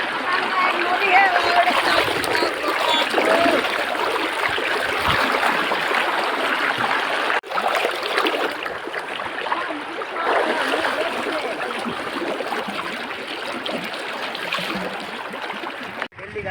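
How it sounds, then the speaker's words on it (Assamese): River water flows steadily at a riverside ghat in Arunachal, a constant broadband rush with splashing and trickling, while people talk nearby throughout. "নদী হে"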